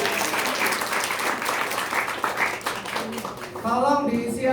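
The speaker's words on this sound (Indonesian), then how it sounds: "Tepuk tangan dong buat Prudential ya." Audience applause fills a training session room, a steady dense patter of clapping for several seconds, with a voice speaking over it near the end.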